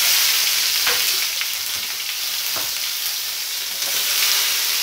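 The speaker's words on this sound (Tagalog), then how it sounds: "Gisa-gisa na ta." Adobo with mushrooms and string beans sautéing in a pan, a loud continuous frying sizzle with occasional soft clinks and stirring scrapes, close up and without talk.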